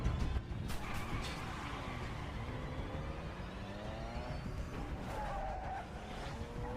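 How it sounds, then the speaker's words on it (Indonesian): A car chase on a road with tires squealing and skidding, engines whining and revving, loud and close with sweeping pitch slides. "salah satu pelaku lainnya kembali mengejarnya hingga aksi kejar-kejaran di jalan pun terjadi"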